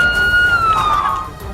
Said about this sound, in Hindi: पूरे इलाके में सायरन की आवाज भी गूंज रही थी।